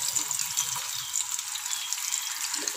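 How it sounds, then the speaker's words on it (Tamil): Fish sizzles in hot oil in a pan, giving a steady, bright, crackling hiss that stays even and close throughout, with small bubbling pops underneath. "இப்போ நல்லா சூடாயிடுச்சு எண்ணெய் வச்சுட்டேன். இது வந்து நம்ம மீனை போட்டுக்கலாம்"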